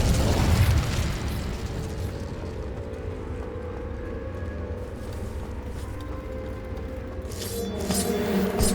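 Incendio fire spell cast in the Hogwarts Legacy video game, a loud whooshing blast of flame that roars on in a sustained rumble and swells again at the end, with no talking.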